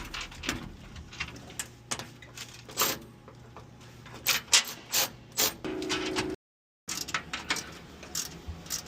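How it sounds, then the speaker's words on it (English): Screws being tightened on a truck bed cap, heard as a series of close, crisp ratcheting clicks and short mechanical bursts in an irregular rhythm. There is a brief silence before the clicking resumes. "Finally, fully tighten the side to top screws."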